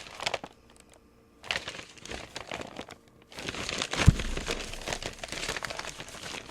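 Coffee-stained paper being crumpled in the hands, a dry crunching and crinkling that comes in bursts with brief pauses, then grows into a louder, continuous rustle with one sharp crackle.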